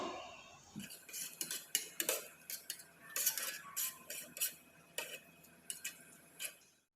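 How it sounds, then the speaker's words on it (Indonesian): A transparent antiseptic herbal soap mixture with dried kaffir lime leaves is stirred in a pot, giving a series of light, irregular utensil clinks and scrapes, quiet and close. "Kita aduk."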